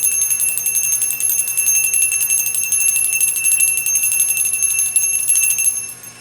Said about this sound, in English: Sorry for not giving you a warning about the bell.